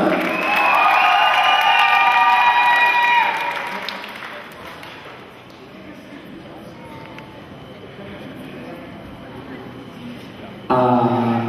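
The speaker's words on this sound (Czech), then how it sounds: "A Danče, takže obrovský potlesk." Loud applause and cheering from a crowd at a 2011 children's summer camp session in Kunčice, holding strong for about four seconds before fading into a lower murmur of crowd noise.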